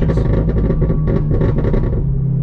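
A C7 Corvette's exhaust rumbles under a close, loud engine drone, broken by a rapid series of sharp pops and crackles as the engine note falls away.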